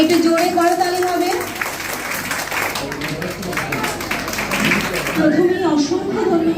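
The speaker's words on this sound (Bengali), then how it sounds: "একটু জোরে করতালি হবে।" Audience applause at a cultural evening marking Dadathakur's birth anniversary in Raghunathganj, Murshidabad: a dense, steady patter of clapping fills the middle stretch, with a voice talking before and after it.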